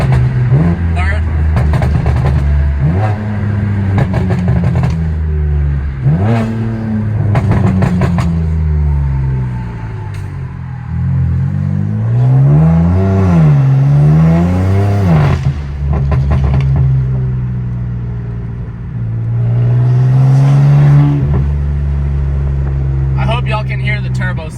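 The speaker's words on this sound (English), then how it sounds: "Y'all can hear the turbo spools." Straight-piped BMW M3 with a boot mod tune, downshifting through the gears with loud engine revs rising and falling and turbo spool whooshes, close and continuous, with people talking over it.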